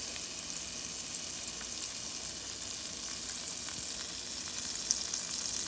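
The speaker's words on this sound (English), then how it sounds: "I'm gonna get a pat of butter, and I'm gonna put it in here, because I'm getting ready to saute the onions and the peppers." A pat of butter melts and sizzles steadily in a pan ahead of sautéing onions and peppers, a constant close hiss with faint crackles and no talking.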